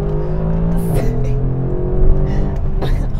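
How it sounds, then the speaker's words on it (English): A Mercedes-AMG GLC 63 Coupe with the AMG Performance exhaust revs hard under manual shifting, loud and close, engine tone climbing then dropping through a gear change with crackling exhaust burbles between pulls. "And the burbles of that AMG Performance exhaust system is phenomenal."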